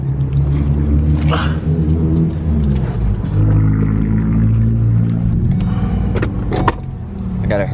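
Ford Focus ST engine while driving, a loud, steady low rumble with shifting tones as revs change, plus a few brief interior clicks and rattles.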